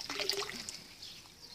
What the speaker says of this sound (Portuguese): E a água está entrando dentro do cano.